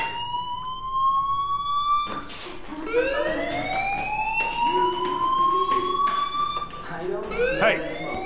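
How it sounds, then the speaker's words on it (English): A fire alarm in the video game Life is Strange rings with steady high electronic tones, then rising siren-like sweeps, under a voice and other game sounds. "Do you hear that fire alarm? That means you should be outside."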